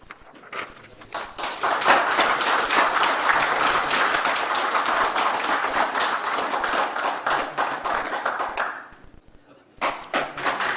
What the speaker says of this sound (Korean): 힘찬 박수로 축하해 주시기 바랍니다.